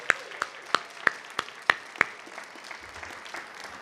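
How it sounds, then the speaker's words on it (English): An audience applauds for volunteers at an AltaSea open house, though only sparse, separate claps are heard, about one every third of a second, fading out toward the end. "So please give our volunteers a great big round of applause."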